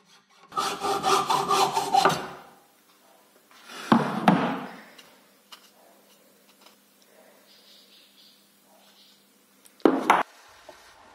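A hand saw rasps through wood in a quick, steady back-and-forth burst, cutting a piece to length during hunting-dagger making, then two shorter scraping strokes follow after pauses.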